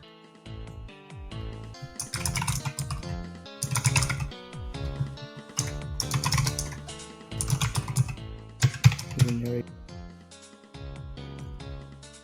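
Rapid typing on a computer keyboard, keys clattering in dense, irregular bursts with brief pauses, close and fairly loud, with no talking.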